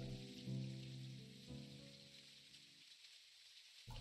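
Quiet rain patters in Necrobarista beneath sustained musical tones that fade out partway through, leaving the soft, steady rainfall alone until a brief swell at the end.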